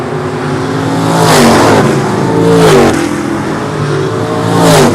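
Super modified race cars scream around a short track, engines swelling loudly as cars sweep past in repeated waves with rising and falling pitch.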